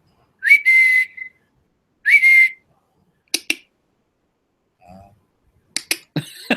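A person whistles two sustained single tones, each about a second long, with a slight upward glide at the start, followed by several short sharp snaps or clicks and a brief low voice, in a quiet room.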